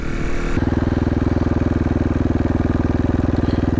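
A 2016 KTM 450 XCF single-cylinder dirt bike engine starts and settles into a fast, even idle, close and loud with a steady rapid thumping pulse.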